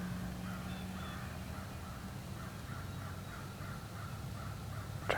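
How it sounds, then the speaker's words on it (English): Crows caw repeatedly in a loose rhythm of rough calls, moderately distant and fairly quiet, over a low steady background hum at a rural hunting property in the morning, with no talking. "Trying to see if them crows will strike one."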